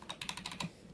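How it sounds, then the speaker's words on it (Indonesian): Rapid typing on a Keychron K2 version 2 wireless mechanical keyboard with an aluminium frame, about eight crisp, close key clacks in quick uneven rhythm with no speech. "Ini uji coba mengetik."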